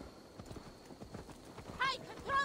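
Horse hooves clip-clopping at a walk in Assassin's Creed Valhalla, faint steady rhythmic steps under someone speaking, with a brief brighter tone near the end.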